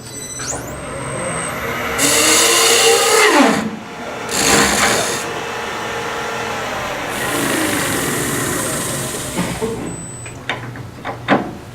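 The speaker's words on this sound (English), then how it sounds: "Why not go ahead and sand it along here?" A power sander works on a wooden vessel, grinding steadily with surging, whining passes that rise and fall in loudness, close and nearly continuous.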